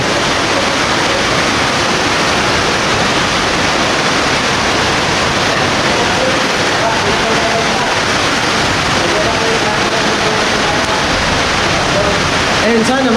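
Heavy rain pouring down as a dense, steady, loud hiss that stays constant throughout, with no pauses.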